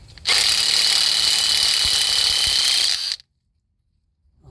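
A pneumatic impact gun loosens bolts on a Toyota flywheel, one loud continuous burst of whirring hammering lasting about three seconds, close up, then cutting off abruptly into silence.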